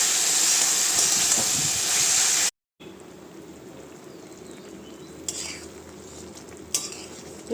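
Taro stolon and tilapia fish curry cooking, stirred in a pot: loud close sizzling and stirring at first, a brief cut to silence, then a quieter simmering hiss with a few sharp spoon clinks.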